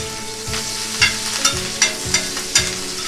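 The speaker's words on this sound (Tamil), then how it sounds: "ஃப்ரை ஆகட்டும்." Curry leaves and chopped green chillies sizzle steadily in hot oil in a pan, with a spoon scraping and stirring in regular strokes about every half second, close and fairly loud, with no talk.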